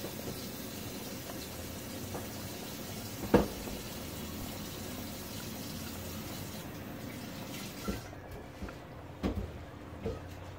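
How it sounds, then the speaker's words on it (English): Water runs steadily from a tap while a skillet is washed in a sink, a faint continuous splashing hiss with a few sharp clinks and knocks of the pan, no talking. "I'm back here washing my skillet."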